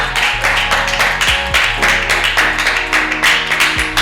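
An audience applauds a guest at a TV interview, with steady, dense clapping that fills the whole stretch, loud and continuous with no pause, alongside a low sustained musical tone.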